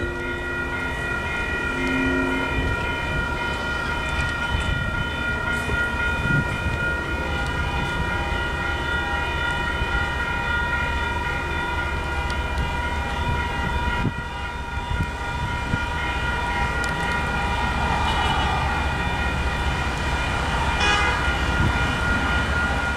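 MBTA commuter train led by locomotive number 2005 approaching a grade crossing in Framingham, Massachusetts: a loud sustained rumble with steady crossing-bell and horn-like tones holding throughout, a slight dip midway, then building again.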